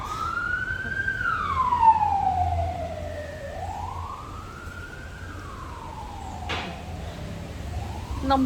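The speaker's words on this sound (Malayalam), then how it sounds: "ഇവിടെ ഹൈവേ ഇതായ കാരണം എപ്പോഴും ആംബുലൻസ് പോയിക്കൊണ്ടിരിക്കും" An ambulance siren wails, rising and falling in long sweeping cycles as it passes on a highway, loud then fading, with a brief clatter near the end.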